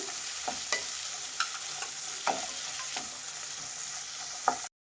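Green peas and capsicum cook in a hot pan under a constant sizzle, with a spoon scraping and stirring in quick separate strokes about every half second to second before the sound cuts off.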